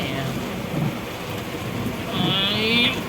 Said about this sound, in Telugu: చీరాల్లో ఈ వర్షం పడింది అనుకోలేదు